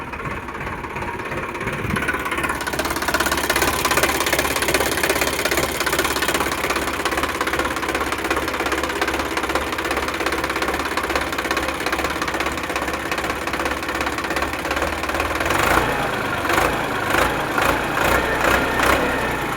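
A Sonalika DI 42 RX tractor's diesel engine idles steadily and loudly throughout, with a knocking mechanical chug; a brief revving change near the end.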